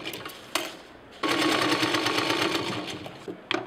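Sewing machine stitching a shoulder bag made from an old kurta just above the zip, a close, steady rapid mechanical chatter running for over two seconds after a few short handling clicks.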